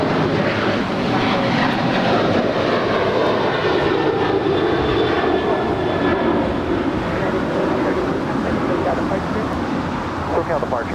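A jet airliner takes off from runway 25 right at Los Angeles International Airport, a loud, continuous engine roar filling the whole stretch while radio voices talk over it.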